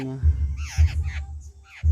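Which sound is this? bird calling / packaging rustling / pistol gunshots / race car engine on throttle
bird calling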